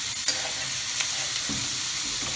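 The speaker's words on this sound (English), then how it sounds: "I'm just sauteing it, tossing." Vegetables for spicy noodles and fried rice sizzle loudly in a pan as they are sautéed and tossed, with a steady frying hiss and a few soft stirring knocks.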